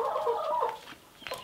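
Hens clucking in a backyard permaculture chicken coop, several overlapping bird calls in a steady stretch and then a brief sharper squawk near the end, fairly close and alone with no talk.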